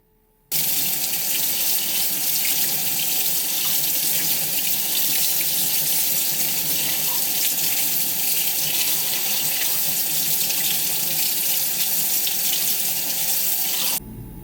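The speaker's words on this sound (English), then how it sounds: "I'm going to run it under warm water, and I'm going to let it dry." Warm water runs from a tap over a tied fishing fly, a steady hissing splash that starts abruptly, holds evenly for about thirteen seconds and then cuts off, with no talk.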